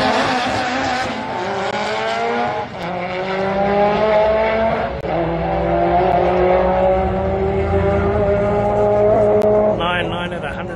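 A 1270hp Mitsubishi Evo with a 4G63 four-cylinder makes a roll racing pass, the engine screaming loud through rising gear pulls with brief dips at each shift, crowd and commentary noise faint underneath.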